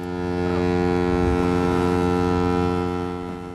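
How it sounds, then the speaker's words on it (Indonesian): A ship's horn sounds one loud, deep, sustained blast that fills the whole moment. "tiba-tiba terdengar suara klakson dari satu kapal."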